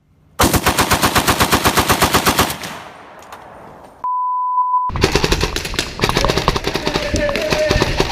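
Rapid machine gun bursts rattle loudly and evenly, then fade. A brief electronic beep follows, and another dense, heavy volley of automatic fire comes after it in a meme clip.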